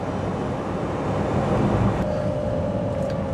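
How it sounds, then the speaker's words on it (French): A Citroën AMI electric city car hums while driving, its motor making a steady broadband drone with a faint rising whine, loud and close, with no talk. "C'est que le bruit du moteur, en fait, qu'on entend."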